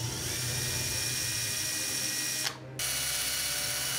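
A drill bores into a GoPro waterproof plastic housing with a sustained high whine and a grinding rasp. It cuts out abruptly for a split second near the end, then starts again.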